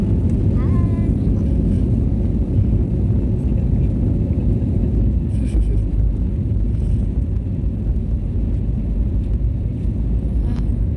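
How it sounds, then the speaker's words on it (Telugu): A steady, heavy cabin roar and low rumble from a passenger airliner's engines during takeoff from Hyderabad persist throughout, loud and close inside the cabin, with faint brief higher sounds over the drone. "మన ఫ్లైట్ ఇప్పుడే టేక్ ఆఫ్ అవుతుంది."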